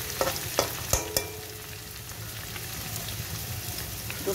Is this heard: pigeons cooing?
no